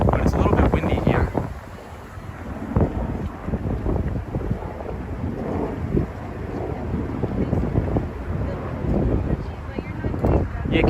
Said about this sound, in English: it's a little bit windy here